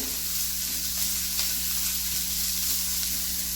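Four medium chopped onions frying in a little oil in a pan for paneer butter masala gravy, giving a continuous, even sizzle with faint stirring and no voices.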